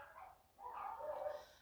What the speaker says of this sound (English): dogs barking. Dogs will bark.